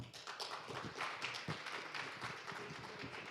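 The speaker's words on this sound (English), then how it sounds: "So we'll please welcome him with a big round of applause" An audience at a business summit gives a round of applause to welcome the moderator, quiet, distant clapping from many hands spread evenly across the room.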